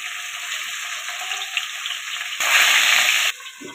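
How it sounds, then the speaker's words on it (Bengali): Bhangor fish frying in hot mustard oil in a kadai, a steady close crackling sizzle that swells louder for about a second before settling back to the same hiss. "মাছগুলো প্রথমে ভেজে নেব ভালো করে।"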